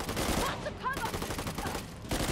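Enemy gunfire in Uncharted: The Lost Legacy, a dense fusillade of rapid overlapping shots in bursts with brief lulls, loud and close.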